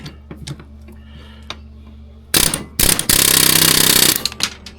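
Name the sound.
hammer bit tool driving out snowmobile skid part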